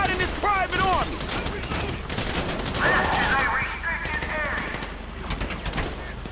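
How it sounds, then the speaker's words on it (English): Rapid bursts of gunfire crackle through a GTA V shootout, dense and continuous, with people shouting over the shots. "So I guess we're shooting our way out of here."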